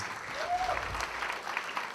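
A meeting audience applauds, a full, even spread of clapping from many people throughout, with a voice briefly rising over it.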